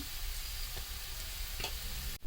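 Ginger garlic paste with turmeric and coriander powder stirred and frying in a pan over a low flame, a steady close sizzle with soft scraping strokes and a sharp clatter at the end.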